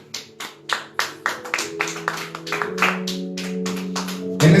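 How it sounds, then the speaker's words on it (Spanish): In a church, a congregation claps for the king: sharp, evenly spaced claps ring out near and loud at first, then blend under sustained tones as the clapping continues. "Dale aplauso al rey."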